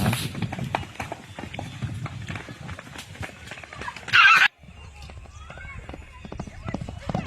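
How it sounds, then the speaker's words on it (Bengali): Hooves clatter in a quick irregular rhythm, a horse running fast over hard ground in a horse race, with people talking and a brief loud burst midway. "দেখতে পাচ্ছ ঘোড়া ছেড়ে দিয়েছে"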